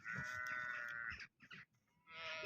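A flock of sheep and lambs, last year's lambs among them, bleating in sustained overlapping calls close by, a brief pause, then another loud bleat rising at the end.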